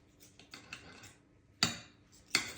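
Cutlery slices through a pancake on a plate with a few soft scrapes, then two sharp, close metallic clinks against the dish near the end, with quiet stretches between.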